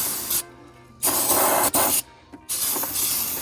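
Cleaner sprayed in short bursts around the engine bay of a 2001 Lexus ES300 during an oil change, a few close, sharp hisses of varying length broken by brief gaps.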